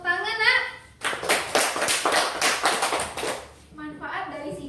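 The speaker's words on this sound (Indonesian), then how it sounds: "Pintar ya Sela, tepuk tangan nak." Children clap their hands in a school classroom lesson, a rapid burst of close, sharp claps lasting a few seconds, with speech just before and after.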